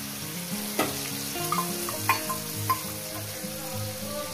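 Water mixed with spices poured into a pan of frying okra hisses into a steady sizzle, with a few clinks from the utensil and music playing underneath.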